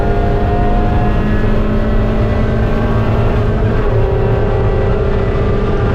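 Race car engine droning steadily at high revs while drafting closely behind another car down the back straight at Mid Ohio, loud, continuous and close, with no speech.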